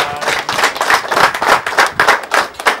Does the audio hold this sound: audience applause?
yes